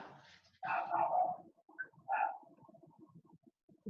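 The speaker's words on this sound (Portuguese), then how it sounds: "Vou desligar porque o meu cachorro tá latindo." A small dog barks a few faint times from another room, short yips and bow-wows separated by quiet gaps.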